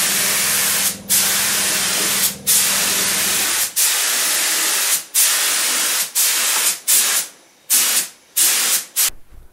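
A spray gun lays finish on an ES 335 guitar build, hissing in long steady bursts, the first one sustained, then a series of shorter regular passes separated by brief pauses, loud and close.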